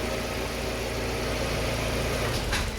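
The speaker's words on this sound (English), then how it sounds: "Now that the car is off the ramp, I'm just gonna let it run for a couple minutes" Fiat 500 engine idling steadily after an oil change, a continuous even hum at moderate level with no talking.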